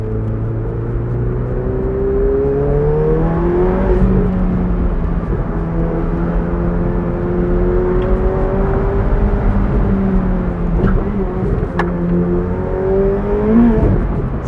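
A Ferrari 488 Pista accelerating under partial throttle, its engine note rising loud and steady from inside the car, with harmonics sweeping up through gear pulls across the whole stretch and no talking.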